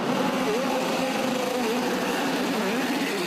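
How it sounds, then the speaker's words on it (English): IndyCar race car engines run at the Honda Indy street race in Markham, a broad, loud buzzing roar with wavering pitch that blends several engines into a continuous wash of sound. "Drivers, start your engines!"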